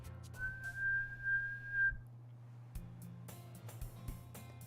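One person whistles a steady, sustained single tone for about a second and a half, clear and fairly close, with faint background sounds afterward.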